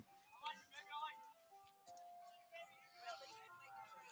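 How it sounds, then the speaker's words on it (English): An ice cream truck plays its tinkling melody as it passes near a high school baseball game in Carmel, the tune rising and fading behind people talking throughout. "First ice cream truck of the summer I've seen."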